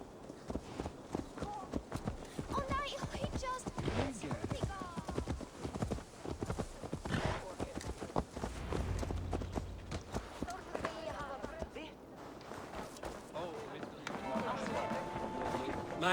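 Hooves clip-clop at a walking to trotting pace from a horse in the video game Assassin's Creed Valhalla, rhythmic and mid-distance, layered with other game sounds and ambient noise.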